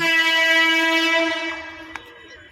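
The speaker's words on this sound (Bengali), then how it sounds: "ফাঁকা স্টেশন আরও ট্রেনের আওয়াজ বেশি হচ্ছে" A train horn blares loud and close at an empty railway station, a long sustained tone fading over about two seconds, followed by a faint clank.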